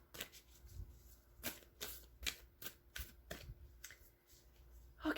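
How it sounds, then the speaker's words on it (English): Tarot cards are shuffled by hand in a quiet room, giving a series of short, crisp riffling bursts in an uneven rhythm, close and fairly soft. "One more shuffle."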